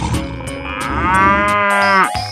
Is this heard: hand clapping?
no